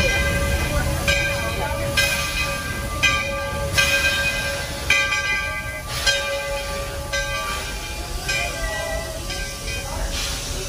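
A theme park train runs steadily with a low rumble and recurring hissing bursts from the engine, heard up close under crowd chatter and voices.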